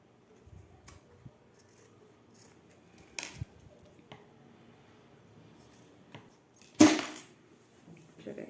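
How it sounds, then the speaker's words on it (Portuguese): Scissors trim the side edge of a fabric piece down to zipper width for a handmade wallet, giving a few soft, sparse snips and rustles in a quiet room, with one sharper, louder cut near the end. "a gente pode refilar essa lateral pra deixar ele na largura do zíper"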